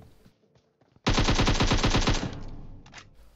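A UMP submachine gun fires a long, rapid automatic burst in PUBG gameplay, loud and close, with evenly spaced shots running for over a second before tapering off, preceded by faint game ambience.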